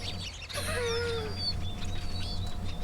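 Played recording of sparrow birdsong, a few bright chirping phrases and short trills, moderately faint over a low steady background hum.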